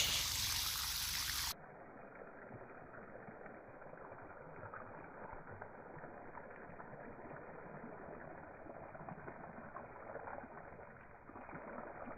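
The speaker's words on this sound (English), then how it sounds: "I'm actually just putting water into the hole" Water is poured into a planting hole for a moved strawberry plant, a steady soft trickle and splash after a brief louder burst at the start, continuing low and even throughout.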